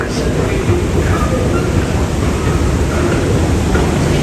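A metro train rolls along with a loud, steady rumble and rushing noise heard from inside the carriage, continuous throughout with no clear talk on top.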